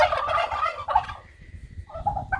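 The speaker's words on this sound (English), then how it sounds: "And I think the loud ones are the turkeys" Turkeys at a poultry farm let out loud, rapid gobbling calls in close bursts, one long warbling call followed by shorter gobbles, with no talk over them.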